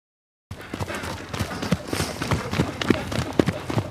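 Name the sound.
horse hooves trotting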